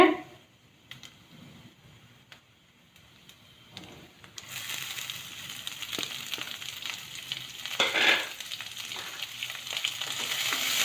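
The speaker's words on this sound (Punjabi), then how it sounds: "ਹਲਕੇ ਪਿਆਜ਼ ਬਰਾਊਨ ਹੋਣ ਤੱਕ ਪਿਆਜ਼ ਭੁੰਨਦੇ ਆਂਗੇ" Onions frying in a pan until light brown, a soft sizzle that is faint at first and then swells into a steady, louder crackle with a brief burst near the end, with no talking.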